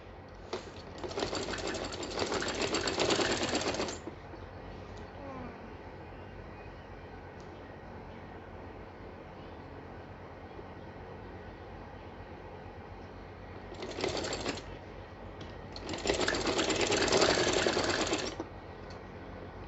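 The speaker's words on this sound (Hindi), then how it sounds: "मैं बैक साइड में स्टिचिंग करनी हूँ, अगर आप चाहें तो फ्रंट में भी कर सकते हैं, फ्रंट की साइड।" A sewing machine stitches folded cord piping on the back side of fabric in two bursts of rapid close whirring, with a quiet stretch between them and another short run near the end.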